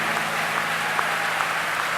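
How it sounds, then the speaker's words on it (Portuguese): A church congregation applauding, a brief dense burst of many hands clapping steadily in a large room, with no voices. "Batei palmas todos os povos"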